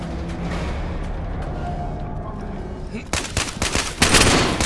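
Rapid bursts of video-game gunfire crack out in the second half, loud and close over a steady low background rumble, with a voice speaking briefly.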